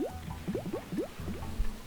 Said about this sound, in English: we're gonna pour some cooking oil on it.